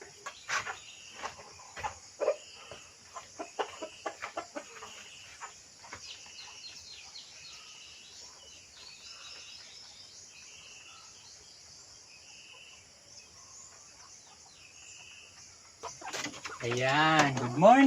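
Pet chickens cluck in short, soft bursts at feeding time over a constant chirp of crickets, quiet and fairly close, and a louder voice comes in near the end.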